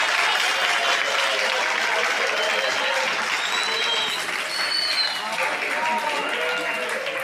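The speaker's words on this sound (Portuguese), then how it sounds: "eu gostaria de mais uma salva de palmas para a nossa convidada aqui" Audience applause for a guest at a discussion circle event on Black women intellectuals in Brazil, steady dense clapping throughout with chatter and voices mixed in.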